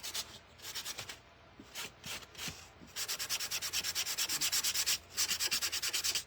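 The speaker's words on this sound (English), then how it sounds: "I'm going to sand it out just a little bit more because I really want it to be faded looking" A wooden woodblock edge is hand-sanded to give it a faded look, heard as close, quiet rhythmic rubbing strokes: a few irregular passes, then a fast, even run of short scrapes, a pause, and more strokes.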